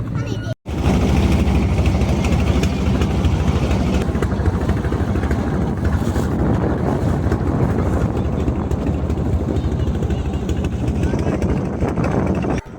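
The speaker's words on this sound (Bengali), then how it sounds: "আমাদের ড্রাইভার ভাই আমাদের ট্রলারটি এখনই ছেড়ে দিচ্ছে" A trawler engine on the river at Chandpur drones loud and close, a continuous rumbling throb that runs unbroken after a brief cut near the start.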